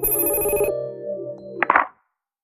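A telephone rings in a Gods Eater Burst cutscene, a loud electronic ring that cuts off abruptly, followed by a sustained tone and a short burst of noise before silence.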